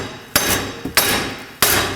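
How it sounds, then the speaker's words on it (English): Three sharp metallic hammer strikes knocking a wheel hub off the steering knuckle of a Toyota Camry, close and loud, the second preceded by a lighter tap, each ringing briefly before fading. "we're going to use our trusty hammer to go ahead and knock the hub off of the knuckle"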